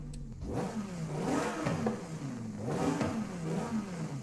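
A Lamborghini Huracán Tecnica engine in Forza Horizon 5 revs repeatedly, pitch climbing and dropping in smooth waves, loud and close with no voices.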